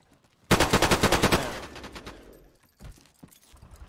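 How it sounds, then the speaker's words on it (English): Rapid automatic gunfire in the video game DayZ, a loud close burst of about a dozen evenly spaced shots that rings out and fades, followed by a couple of fainter thumps. "he just shot at someone again"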